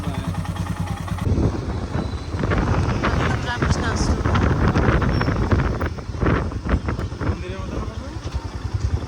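A motorbike carries riders through a town in West Bengal while wind buffets the microphone, a loud rushing roar with engine drone underneath, and people talk over it throughout.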